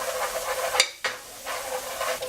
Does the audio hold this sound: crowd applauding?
no